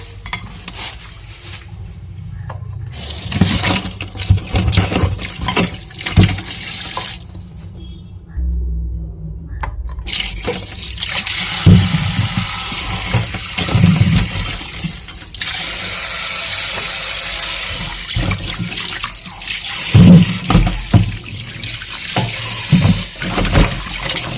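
Capsicum, beans and carrots rinsed under a running kitchen tap, with steady rushing water that pauses briefly midway before resuming, and occasional knocks from the vegetables being handled.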